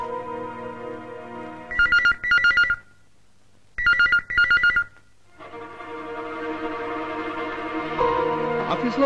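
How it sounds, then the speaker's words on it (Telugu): An office telephone rings unanswered in two double-burst rings, loud and alone, followed by a swell of background music. "ఆఫీస్ లో ఫోన్ రింగ్ అవుతుంది, ఎవరు ఎత్తడం లేదు."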